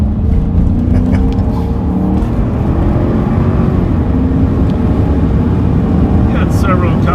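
Police car engine revving through its exhaust pipe during a patrol pursuit, a loud continuous low rumble held steady throughout, with radio chatter and voices talking over it.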